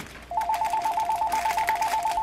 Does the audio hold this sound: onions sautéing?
no